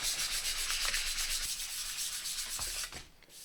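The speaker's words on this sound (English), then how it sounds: "We're not taking loads of wood off, we're just sanding it." Steady rubbing rasp of sandpaper worked back and forth over a wooden guitar neck, close and continuous, easing off near the end.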